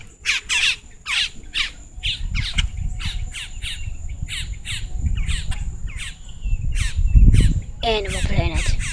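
Outdoors by a dock, birds squawk and caw repeatedly in loud, close bursts, with a person talking underneath and some wind or handling noise.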